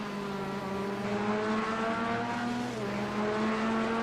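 Race cars in a NASCAR video game slowing hard for a sharp left-hand corner at Atlanta, a steady loud engine drone with falling pitch as they brake, close and continuous.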